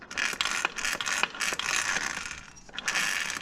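Transfer box from a Mercedes-Benz ML W164 420 CDI 4MATIC being turned by hand on a workbench, giving a rough, gritty mechanical grinding and ratcheting sound with a few sharper clicks, steady and close.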